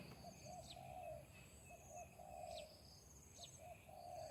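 A small wild bird in Thai countryside repeats short, soft cooing calls at intervals, faint and far off, with thin cricket-like higher chirps and a quiet hum of background noise.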